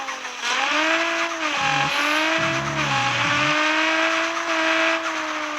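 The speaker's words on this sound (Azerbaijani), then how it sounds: "Dalı biraz çox pis sürüşür." Tires squeal in a long sustained skid as a car's rear slides out in the Car Parking mobile game, engine droning steadily underneath with rising and falling pitch, loud and close throughout.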